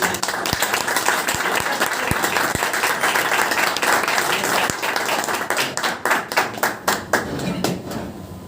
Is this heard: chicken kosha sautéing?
no